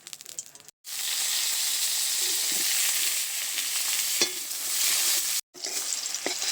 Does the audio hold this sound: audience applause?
no